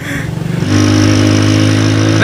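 A motorcycle ridden along a beach road, its engine settling into a loud, steady drone close by after a choppy opening, continuous with no voices.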